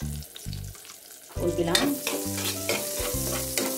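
Onions fry in a pan for pancit bihon, with a strong close sizzle and bursts of stirring and scraping. A brief spoken phrase is heard over the cooking.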